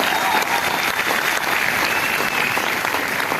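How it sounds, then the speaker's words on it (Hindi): Loud, sustained applause from a seated training-seminar audience cheering for their leader, dense continuous clapping filling the room without a break. "इसके लिए अपने लीडर के लिए जोरदार ताली होनी चाहिए भाई"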